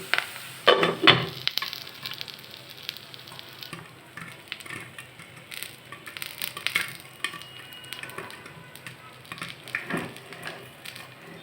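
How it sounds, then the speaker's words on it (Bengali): Popcorn kernels popping in a covered pan with oil make scattered sharp pops and crackles over a faint sizzle, close and fairly quiet, with a denser burst near the start. "আমার পপকর্ন ভাজা হয়ে আসছে দেখুন চারপাশে ফুটে এসেছে পপকর্নগুলো"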